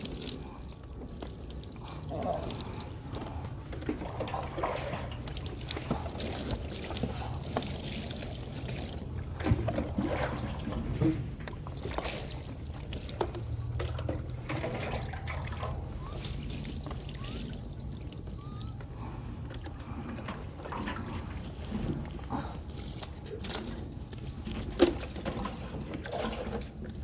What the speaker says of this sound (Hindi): इस तरह से 3 दफ़ा पानी बहा दिया जाए